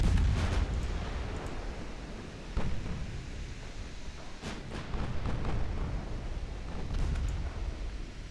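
Warship guns firing in the naval game Ultimate Admiral Dreadnoughts, deep rumbling booms with a few sharper reports rolling over a continuous low roar.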